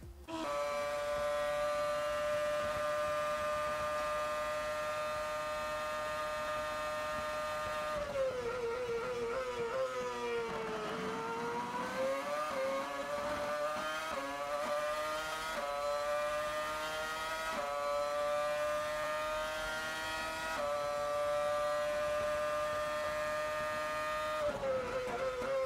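A race car laps the Interlagos circuit, its engine a loud, sustained high-pitched whine that holds steady, dips as it brakes and downshifts, then climbs again through the gears for the whole stretch, with no talking over it.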